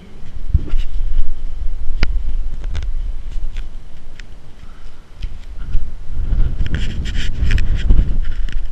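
Gusty wind blows at an abandoned water tower, buffeting the microphone in loud, uneven bursts with scattered thumps, the gusts building again near the end.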